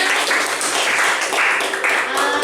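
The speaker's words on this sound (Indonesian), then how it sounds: "Kita kasih tepuk tangan." A school class claps hands together in applause, loud close rapid clapping with some voices mixed in, continuing steadily throughout.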